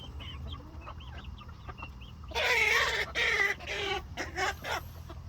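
Brahma chickens cluck in a coop at dusk, a cluster of loud squawks and clucks near the mic after softer peeping and chirps.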